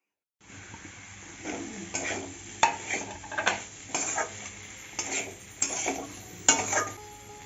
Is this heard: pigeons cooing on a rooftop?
no